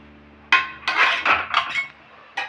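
A metal lid is set onto a cooking pot of simmering spiced water for Bengali doi katla fish curry, giving a few sharp clanks and rattles close by, with a final clink after a short pause.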